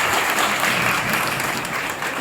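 Steady applause from a crowd, dense clapping that fills the whole stretch without a break.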